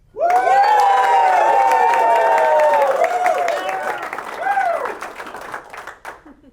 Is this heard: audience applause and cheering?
yes